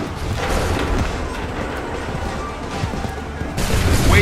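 Musket volley fire in Assassin's Creed 3 battle, a dense crackling fusillade of many shots rolling together, loud and continuous, swelling with a heavier burst near the end.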